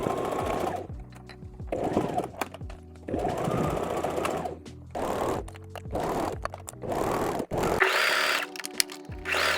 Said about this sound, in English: And then as you sew, back stitch. It will completely prevent the fabric from getting sucked into your machine.